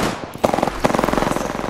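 Machine gun fire in the Apex Legends video game opens with a single shot, then breaks into a rapid, loud automatic burst of evenly spaced rounds that carries to the end.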